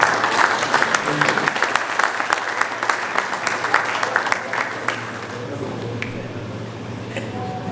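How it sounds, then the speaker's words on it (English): Applause at the opening ceremony of the 2022 Squash Federation of Africa Seniors Championships, a dense, steady round of clapping from an indoor audience that rises strongly, then thins and fades toward the end while a voice starts to speak. "let's give a round of applause to Dr. Benson Martins Dube"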